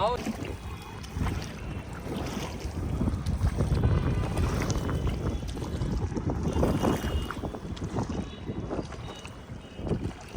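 A boat carrying seven people on Nainital lake on a cloudy, foggy, cold day, with strong wind buffeting the microphone over a continuous rush of water and boat noise throughout.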